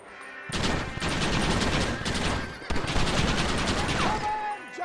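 Gunfire in Red Dead Redemption: two long, loud volleys of rapid shots that crackle and roll, separated by a brief gap, with a faint voice underneath.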